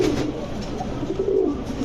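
Low, soft cooing of Giribaz high-flyer pigeons in a pigeon shop hums against a noisy background, continuous and fairly close, with no voices.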